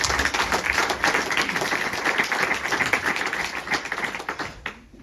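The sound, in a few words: audience applause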